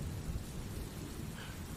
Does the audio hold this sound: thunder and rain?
yes